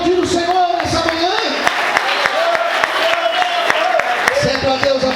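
Church congregation applauding at a morning service, dense clapping with regular rhythmic claps cutting through, while a voice keeps speaking or singing over it.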